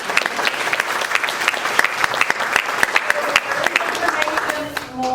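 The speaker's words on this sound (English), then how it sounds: "Can I get a round of applause?" A seminar audience on aging and mental health applauds, many hands clapping with distinct sharp claps standing out, moderately close and steady, tapering off at the end.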